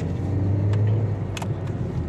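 An Ashok Leyland bus shifts into drive and pulls away from a fuel pump in Saudi Arabia, its engine a steady, loud low rumble throughout with a few faint clicks and knocks over it.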